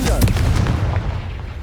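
The Confringo blasting spell from the Hogwarts Legacy game goes off in a single short, heavy explosion, a booming close-up blast with a low rumbling decay.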